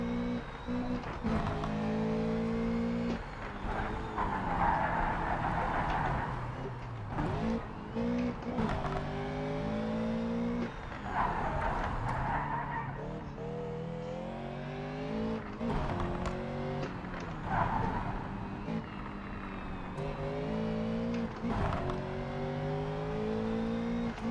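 A race car engine in the video game Project Cars 3 roars and revs continuously, rising and falling through gear changes, with occasional tire noise and no other voices.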